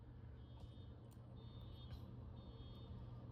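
Distant alarm going off in the background, with repeated high, thin beeps sounding at a regular pace over a steady low rumble, faint and far away.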